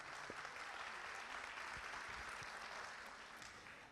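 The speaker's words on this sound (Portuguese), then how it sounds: "Salva de palmas para a professora Marisa." A crowd claps steadily for about four seconds, tapering slightly at the end, during the formal opening ceremony of a state teachers' union congress as a regional teaching coordinator is honored. No one speaks.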